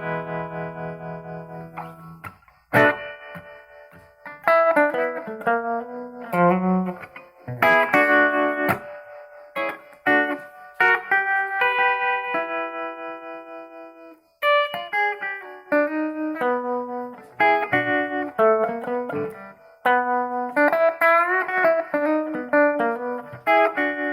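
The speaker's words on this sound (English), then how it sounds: "Okay, that's the tremolo." An electric guitar strums chords repeatedly through a Strauss SRT-15 amplifier, the sound pulsing in a wavering tremolo whose speed shifts from slow to fast, with echoey effects throughout.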